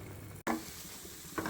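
A spoon stirs a thick, sticky gul pavate mixture in a hot pan with ghee, soft scraping and a faint sizzle at close range, a short drop out early and a louder scrape near the end.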